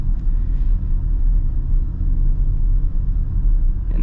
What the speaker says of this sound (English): it's got the right amount of sound out of that V8